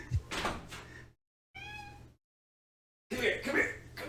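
A cat gives a few short meows between brief silences, with a knock or bump nearby. People talk and react around it.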